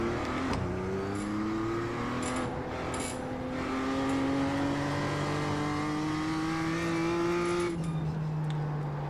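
A damaged BMW M2 Cup race car drives hard at Lime Rock, its engine rising and falling through gear changes in a steady, close in-car roar.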